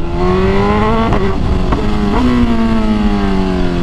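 A loud, close Kawasaki Z H2 motorcycle engine drones steadily, its pitch rising and falling with a few throttle blips.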